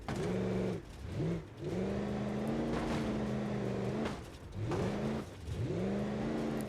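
A truck engine in BeamNG Drive revs repeatedly while off-roading, with several rising and falling throttle bursts separated by brief dips, loud and close.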